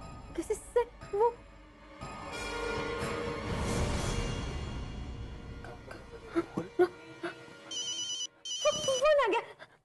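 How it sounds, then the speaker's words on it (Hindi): A telephone rings in bursts amid a domestic scene, its electronic tone repeating between snatches of conversation and other household sounds. "फोन आ गया।"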